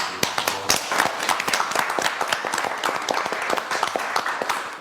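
Audience applause at a Haitian reality show results announcement, a dense, steady burst of many hands clapping at close range with sharp individual claps standing out, continuous for several seconds with little voice beneath.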